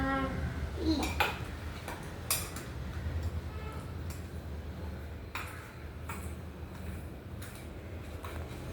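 Grated coconut being stirred in a pan while cooking energy food. Sparse metallic scrapes and clinks of a spoon against the pan come at uneven intervals over a low background hum, with no clear voices.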